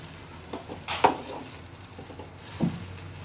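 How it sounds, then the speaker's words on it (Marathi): A spoon stirs bread bhaji in a pan over a low flame, making soft scraping and clinking sounds with a quiet sizzle beneath, in a few separate strokes. "आणि परत मिक्स करते चांगलं."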